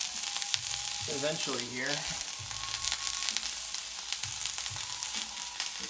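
Ginger sizzling in hot oil in a carbon steel pan for fried rice, a steady crackling fry close by, with a person talking briefly over it.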